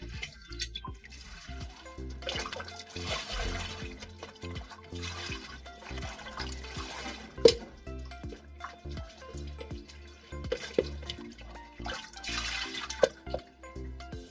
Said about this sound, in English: I am going to put this towel here and we are going to wet it very well.